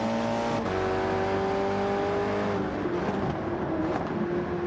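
A Porsche 917 Living Legend race car in a racing video game on the Sardegna circuit: a loud, steady engine drone with rising and falling pitch as it accelerates and shifts, heard close and alone.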